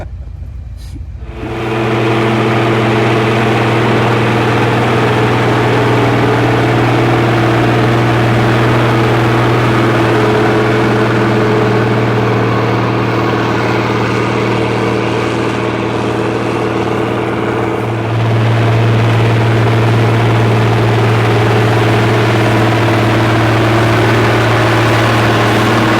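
An International 3588 2+2 tractor engine runs steady and loud throughout, a deep constant drone with a slight shift in pitch late on, no voices.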